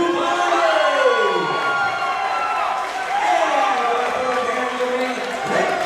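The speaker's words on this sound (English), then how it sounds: "the crowd erupted when when his name was called" Crowd cheering and shouting in a fight arena as the fighter's name is announced, a loud sustained roar under an announcer's voice.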